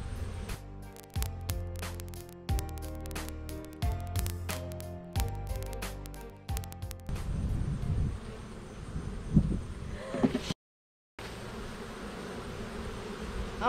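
Honey bees buzz in a busy hive, a steady close drone with sharp bursts and handling knocks over the first half, then a denser rushing buzz before a brief dropout.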